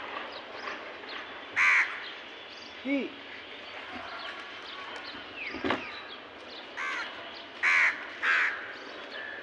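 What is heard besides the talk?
crows cawing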